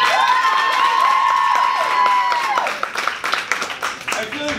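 An improv show audience lets out a loud, sustained whooping cheer, then breaks into scattered clapping and shouts as the cheering fades.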